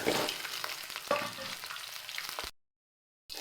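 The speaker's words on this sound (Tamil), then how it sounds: "நல்லா சிம்மில் வச்சு நல்லா வத வறுத்து எடுத்துக்குவோம்" Bitter gourd pieces fry in oil on low heat with broad beans nearby, a close, steady sizzle with a few stirring scrapes, cutting to brief silence before the frying resumes, with no talk.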